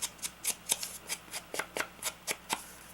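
Scissors snip paper for a junk journal in a quick run of about a dozen short, crisp, evenly spaced cuts, close and quiet, with no talk.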